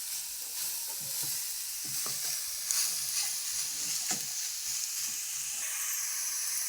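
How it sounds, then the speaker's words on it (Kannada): Grated carrot is stirred in a hot pan, a soft continuous sizzle with intermittent scraping strokes of a spoon, fairly faint and without talk. "ಹಾಕಿ ಚೆಂದಂಗೆ ಒಂದು ಮಿಕ್ಸ್ ಕೊಡ್ಬೇಕು ನೋಡ್ರಿ."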